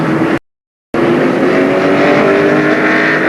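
NASCAR Busch Series race cars driving on track after a crash, a loud continuous engine roar with a brief dropout near the start, then sustained droning motors.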